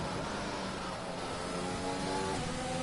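Formula 1 race car engine on throttle in the F1 2020 racing game, a steady smooth drone heard from the cockpit with a rising tone toward the end, held at an even moderate level throughout.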